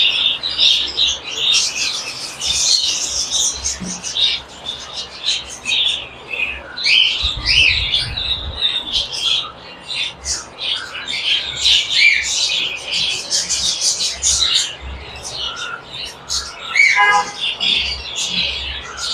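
Many small pet birds, including cockatiels, lovebirds and doves, chirp and tweet continuously and fairly close in an aviary, a busy overlapping chorus with occasional squawks and a brief low rumble partway through.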